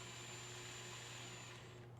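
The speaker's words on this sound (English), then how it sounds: "And then I'm going to drill." A power drill with a 3/32 bit whirs steadily at a constant pitch while drilling a hole for salmon trolling bait rigging, close and continuous with no talk.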